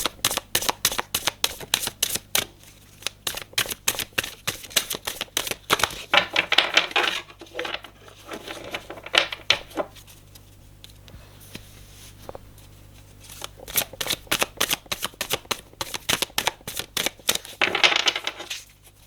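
Playing cards are handled, shuffled and laid down for a reading, giving dense bursts of crisp snapping and riffling clicks that come and go in clusters, close and fairly clear, with no talking.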